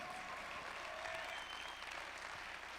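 An audience at a speaking event claps hands in sustained, dense applause, steady and fairly distant, with no voices rising above it.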